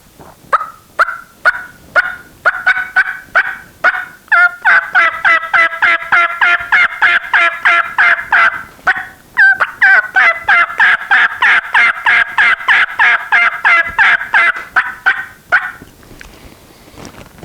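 Turkey calling made on a latex mouth diaphragm call, a voice imitating turkey yelps and gobble-like bursts in fast rhythmic runs, loud and close, two long sequences with a brief pause between.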